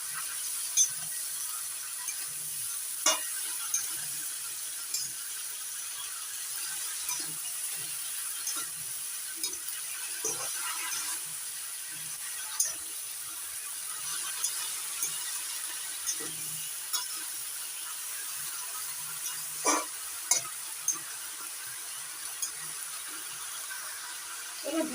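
Vegetables with green chillies being stirred and mixed in a pan: soft scattered scrapes and light clicks of a spoon over a faint steady sizzle, close and quiet.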